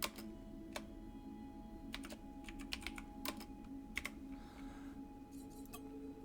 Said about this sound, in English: If I can remember how to type.